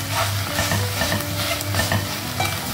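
Eggs frying in a pan under constant sizzle, with repeated scraping strokes of a utensil stirring gently, close and loud with no talking.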